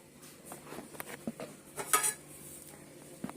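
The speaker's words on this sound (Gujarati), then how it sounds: "વાસણ ગોઠવી દઉં" Dishes and metal utensils are set in place in a home kitchen. Scattered clinks and clatters sound at close range, with one sharper rattle of cutlery near the middle.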